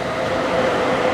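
Train pulling into a seaside station in Japan near Oiso Beach, a steady loud rumble of rolling carriages filling the short moment with no voices.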